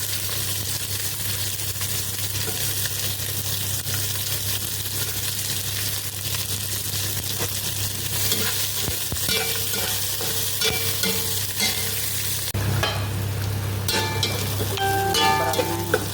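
Onion sautéing in a pan with garlic for a Filipino vegetable dish, a steady close sizzle with scraping stirs throughout, with brief clatter toward the end.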